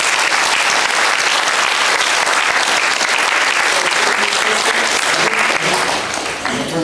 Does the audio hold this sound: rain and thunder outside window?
no